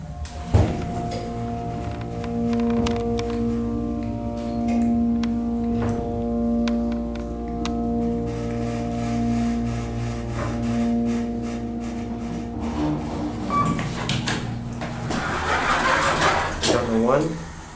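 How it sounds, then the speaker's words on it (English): A Dover hydraulic elevator motor, modernized by KONE in 2014, hums steadily in a mall elevator cab with a low tonal drone, while faint knocks and voices come and go over it. "Listen to the motor."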